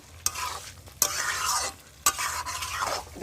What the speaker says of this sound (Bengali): চিকেনগুলো আমি দিয়ে দিলাম।